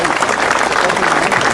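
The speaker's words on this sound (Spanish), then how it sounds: "acaban de llegar también representantes del sector salud, con un fuerte aplauso" Dense applause from a crowd at a street protest in San Cristóbal de Las Casas, Chiapas, loud and sustained throughout, with voices mixed in.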